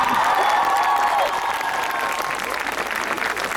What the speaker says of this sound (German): das ist ein verdammt fetten Applaus für die Jungs wert